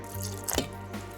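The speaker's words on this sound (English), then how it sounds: "Add some water and I'm going to start mixing it." Water splashes and drips into recycled paper clay dough being mixed in a bowl, a short wet burst in the middle of the moment with faint dripping around it.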